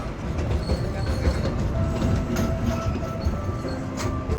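The Pandalungan passenger train on its daytime Surabaya to Jakarta run gives a steady, loud rumble of railcars on the rails, with faint rhythmic clatter and metallic whine throughout and no voices.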